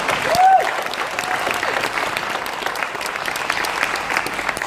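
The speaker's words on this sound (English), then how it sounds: "they need a massive round of applause and thank you for each and one of them" A conference audience gives a sustained round of applause for two honorees, a thick, even roar of clapping from a large crowd that carries steadily throughout.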